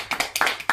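A few people clap briefly during a cool drinks naming game, a short burst of sharp, moderately close hand claps.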